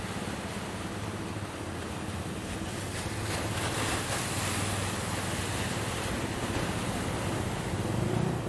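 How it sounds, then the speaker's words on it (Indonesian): Continuous rushing ocean surf at Plawangan Puger beach with wind buffeting the microphone, a broad steady roar swelling slightly toward the end. "Enak tuh ini ombak."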